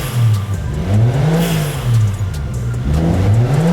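A Nissan S14 with a swapped-in 1JZ engine runs at its first start, loud and close, the revs swelling and falling in repeated blips over a rough, lumpy idle.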